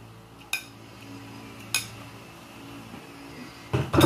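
Dishes being washed by hand: a few sharp clinks of plates and cutlery at scattered moments, with a louder clatter at the end over a faint low background hum.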